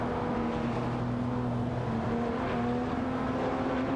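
Race cars in a video game race, including a Porsche 911-997 Turbo, drone steadily with a continuous engine whir and tonal hum, no distinct pass-bys, holding an even, loud level throughout.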